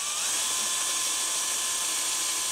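A high-pitched corded power drill bores into pine wood, whining steadily and loudly at close range, a constant buzzing drone without a break.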